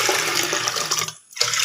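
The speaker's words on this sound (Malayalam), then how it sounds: "ഇതിലേക്ക് 4 കപ്പ് വെള്ളം പറഞ്ഞെടുക്കുന്നുണ്ട് കേട്ടോ." Water gushes steadily into a pressure cooker holding soaked green gram for payasam, a close, loud pour that breaks off briefly near the end before resuming.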